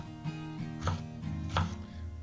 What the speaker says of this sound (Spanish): vamos a ir picando los vegetales